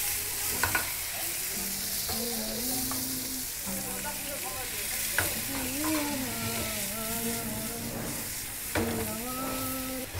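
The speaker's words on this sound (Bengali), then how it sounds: "আর এটা ভেজে নেওয়া হচ্ছে?" Pizza toppings of onion, capsicum, sweet corn and tomato fry in a pan, with a continuous close sizzle and stirring scrapes, while voices speak over it.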